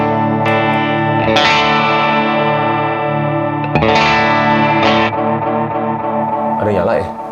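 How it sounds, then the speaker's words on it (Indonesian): Electric guitar through a treble booster pedal on a pedalboard, bright sustained chords with heavy crunchy effects and echo, restruck a few times, loud and up close. "Tapi dia suaranya kayak nge-boost treble gitu."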